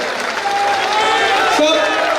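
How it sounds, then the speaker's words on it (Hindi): Large crowd at a political nomination rally in Nathdwara claps and cheers to welcome the chief minister, a loud, continuous wash of applause with a blended voice rising briefly over it. "आप सबसे अपील करता हूँ जोरदार ताली बजाकर माननीय मुख्यमंत्री जी का स्वागत करें"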